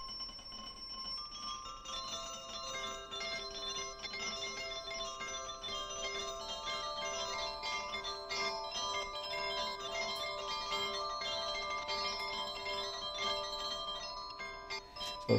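Arturia Pigments granular synth patch at low grain rates, producing a sustained shimmering bell-like ringing with many steady overtones, continuous and fairly loud throughout with no talking.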